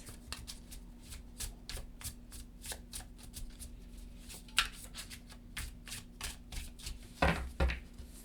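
Tarot cards are shuffled by hand in a steady run of quick riffling flicks, soft and close, ending with a louder cluster of taps as the deck settles, with no talking.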